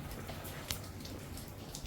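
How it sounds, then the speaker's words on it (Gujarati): Steady rain falls in a soft, even hiss, fairly faint, with no voices. "આજે વરસાદ બી સવારથી જ ચાલુ છે"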